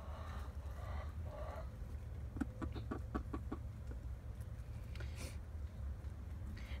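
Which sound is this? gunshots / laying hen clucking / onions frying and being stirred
laying hen clucking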